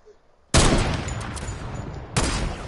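Sniper gunfire in the Fortnite battle royale video game: a loud burst of shots begins abruptly and roars on continuously, then a second loud volley hits near the end, with no talk over it.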